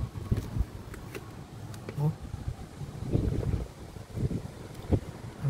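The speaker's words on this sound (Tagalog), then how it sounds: "Ang lakas ng hangin talaga hanggang sa ngayon" Strong typhoon wind gusts batter the microphone in uneven bursts, with someone talking over the roaring, buffeting noise.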